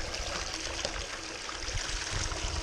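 Water running through a gold cleanup sluice and dropping straight down into a tray, a steady close trickling and pouring flow without talk.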